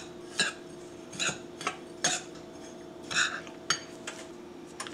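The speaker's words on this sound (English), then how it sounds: "I'm just going to blend it up a little bit." Utensil stirring cinnamon into coffee cake mixture in a bowl, about eight sharp clinks and scrapes at an uneven rhythm, close and fairly quiet, with no talking.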